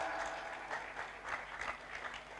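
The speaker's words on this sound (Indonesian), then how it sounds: "tepuk tangan sing banter" Applause from an audience at an Islamic religious lecture, a steady wash of many hands clapping with small swells, fairly quiet and distant, with no talk over it.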